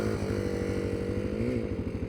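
A Yamaha XT350 motorcycle engine runs close by with a rapid, steady thumping idle and a slight rise in revs partway through.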